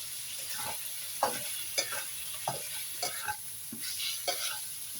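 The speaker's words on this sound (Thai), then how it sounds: "ใส่เห็ดหอมเข้าไป ผัดให้มันมีกลิ่นหอมก่อนจ้ะ" Shiitake mushrooms stir-fried in a pan, a steady low sizzle broken by a regular series of spatula scrapes and tosses roughly every half second, close and quiet with no talking.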